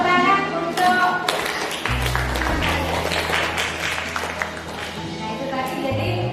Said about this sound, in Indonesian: Oh ya, beri tepuk tangan untuk.